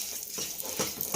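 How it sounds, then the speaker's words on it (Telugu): A thick Mysore pak mixture with ghee bubbles and sizzles in a pan while a spoon stirs it, giving a short, close run of soft frying hiss and scraping strokes. "ఇట్లా బబుల్స్ వచ్చేటప్పుడు చక్కగా నెయ్యి వేసుకొని కలుపుకుంటూ ఉందాం"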